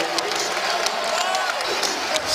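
A charged-up college basketball crowd at a Duke vs Boston College game, a dense roar of cheering with scattered shouts and claps, steady and moderately loud.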